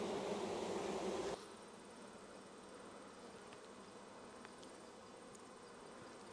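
Honeybees drone in an opened hive, a loud close buzz for the first second and then a fainter, steady hum.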